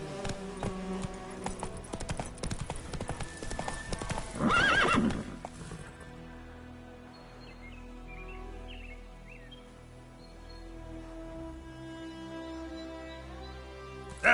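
In The Witcher video game, the horse Roach gallops with rapid clip-clop hoofbeats, then neighs loudly, and the scene settles into a quieter ambience with faint birdsong.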